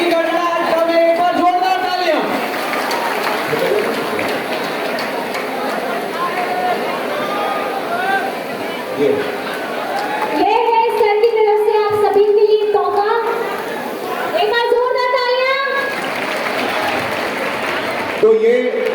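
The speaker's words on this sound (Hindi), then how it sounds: "जोरदार तालियां। हाथ उठाकर तालियां बजाएंगे।" Loud, sustained applause from an audience at an anniversary celebration event, with cheering and crowd chatter throughout and a person's voice speaking over it at intervals.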